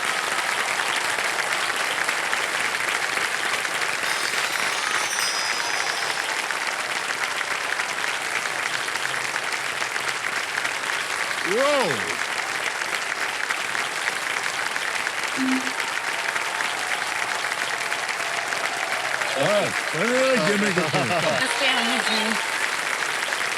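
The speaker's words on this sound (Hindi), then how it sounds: "तालियों के साथ स्वागत करें" Studio audience at a television quiz show giving sustained, loud applause to welcome celebrity guests, steady dense clapping throughout with brief whoops and music-like tones rising in the background.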